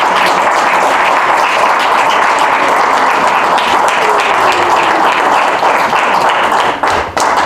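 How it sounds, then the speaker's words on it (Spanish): Church congregation applauding at a Christian service, a dense, steady wash of clapping that fills the whole stretch and thins slightly at the very end. "Denle un aplauso al Señor"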